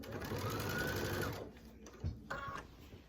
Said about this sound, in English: taking it back to the sewing machine and stitching it down from the edge